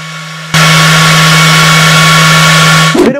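The cooling fan of a SculpFun S30 Pro laser engraver switches on abruptly and roars loud and close with a steady whooshing drone and a low hum, then a brief rattling handling noise near the end.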